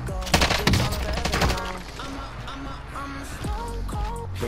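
Rapid gunfire from a first-person shooter game using a Stoner and an AK74u, with bursts of automatic fire and sharp shots that are loudest near the start and continue under excited talking.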